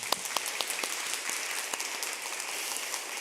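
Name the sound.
congregation applause of blessing in church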